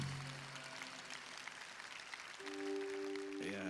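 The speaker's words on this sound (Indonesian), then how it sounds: "Boleh tepuk tangan." Church congregation applauding during a Sunday sermon service, a steady dense wash of clapping throughout, with sustained organ or keyboard tones entering partway and a brief rising note near the end.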